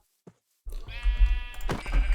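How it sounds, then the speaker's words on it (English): A sheep in Minecraft bleats once, a loud, wavering bleat close by that follows a brief click and silence, with game ambience underneath. "Oh look, there's a sheep right here."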